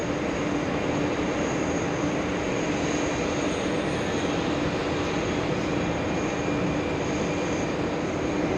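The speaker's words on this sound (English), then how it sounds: "A 767-400 slowing down on 4 right" A Delta Boeing 767-400 jet rolls out and slows after landing on runway 4 right at JFK, giving a steady, dense engine and reverse-thrust roar that continues evenly without breaks.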